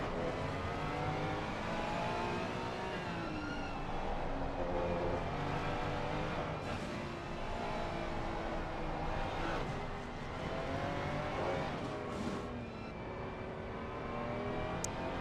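Race cars lapping the Hungaroring in a racing video game, with continuous engine whine rising and falling through gear changes as several cars drive and pass, loud and steady.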